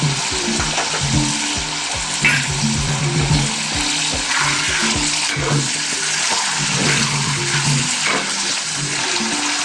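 Mutton mince gravy with ground garlic-ginger paste sautéing in a pan, a steady close, loud sizzle and frying hiss with scraping stir strokes throughout, no talk.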